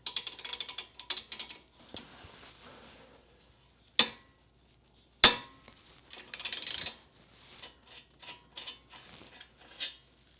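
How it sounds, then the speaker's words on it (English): A ratchet with a 14mm socket works the flange bolt off the ball joint of a 2020–2025 Subaru Outback's front lower control arm. Bursts of close, quick clicking come with sharp metallic clanks between quieter pauses, with no talk. "we're going to remove the flange bolt from the ball joint with a 14mm"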